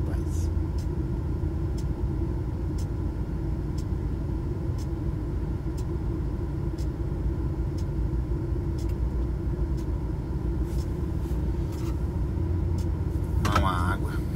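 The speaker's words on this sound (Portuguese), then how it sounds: "Esse trânsito do Recife aqui" Steady road traffic on the 101 highway in Recife, a continuous low rumble of cars and heavier vehicles passing close by, with a brief louder swell near the end.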